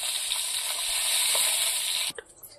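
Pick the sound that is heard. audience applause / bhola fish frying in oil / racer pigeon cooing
bhola fish frying in oil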